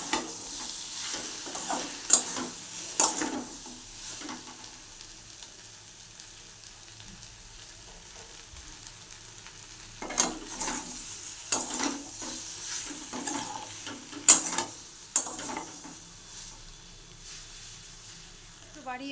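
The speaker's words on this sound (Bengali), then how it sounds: "আর আজকে কালো জিরা ফোড়ন দিয়ে আর শুকনো লঙ্কা ফোড়ন দিয়ে আমি লাউ চোখা ভাজা করব।" Bottle gourd peel frying in a pan with black cumin and dried chili, bursts of sizzling and stirring scrapes in clusters separated by quieter gaps, with talk at times.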